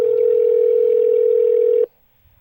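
A steady telephone dial tone hums loud and continuous for nearly two seconds, then cuts off abruptly into near silence, with no dialing beeps following.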